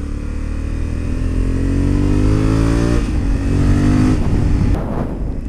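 A 2021 Honda Africa Twin with manual transmission riding on a race track, its engine loud and close, climbing steadily in pitch through the gears with a shift partway and a drop near the end.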